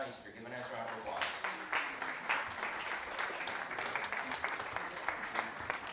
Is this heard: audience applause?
yes